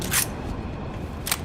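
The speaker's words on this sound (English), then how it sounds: "Reloading." A weapon reload in Starfield gives two quick metallic clacks about a second apart, crisp and close, over a low background rumble.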